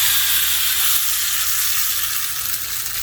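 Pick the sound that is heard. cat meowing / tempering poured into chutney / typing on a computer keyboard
tempering poured into chutney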